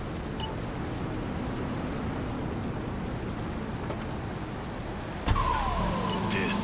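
A car in Grand Theft Auto 3 drives with a steady engine and road rumble that lasts throughout, then a sudden mechanical clunk followed by a whirring tone near the end.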